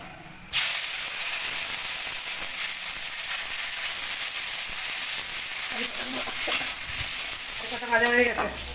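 Curry leaves, dried red chillies and five-spice seeds crackle and sizzle loudly in hot oil in a kadai, a sudden steady frying hiss that runs throughout, with faint stirring near the end.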